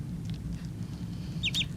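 Baby ducks give a few short, high peeps near the end, close by, over a low steady background hum.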